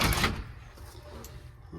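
A door falls off its frame with a sharp close crash at the start, then faint rattling and shuffling follow. Light voice sounds can be heard under it.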